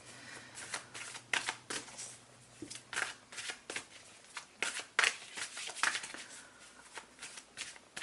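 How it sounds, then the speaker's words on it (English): Tarot cards are shuffled by hand in a quick, steady run of riffling, flapping bursts that stay close and fairly loud, with brief pauses between bursts and no talk over them. "I'm going to pull a couple of cards and we'll talk about the cards."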